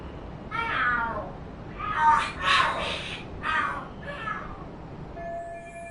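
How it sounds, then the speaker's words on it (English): Cats fighting and screaming in the video game Lost Judgment, a run of harsh, wailing yowls rising and falling over about five seconds, moderately close with a faint background hum. "The hell are there cats fighting?"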